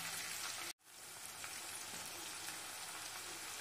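Onions sautéing in a pan toward golden brown for a Punjabi-style rajma gravy, a steady close crackling sizzle with one brief drop to silence near the start.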